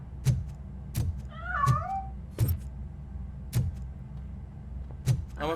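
A cat meows a few times in the RoboCop: Rogue City video game, with thin rising calls midway over a low steady hum and sharp periodic clicks.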